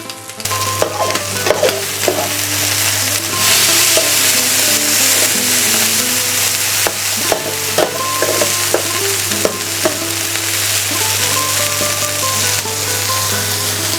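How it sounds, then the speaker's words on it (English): Garlic and onion frying in a pan for a cod and cauliflower paella, a loud continuous sizzle close by with frequent stirring scrapes and clinks, no talking. "Let's mix it up with the garlic and the onion."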